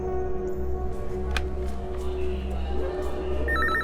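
A phone's ringtone sounds in a Hindi-dubbed South Indian action film, a brief burst of repeated electronic tones near the end over background murmur and voices.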